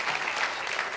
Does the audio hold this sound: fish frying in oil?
no